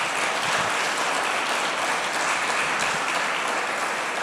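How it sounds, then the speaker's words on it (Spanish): Steady, dense applause from a church congregation during a sermon, a continuous wash of clapping hands at even loudness throughout. "Dele un aplauso al Señor Jesús"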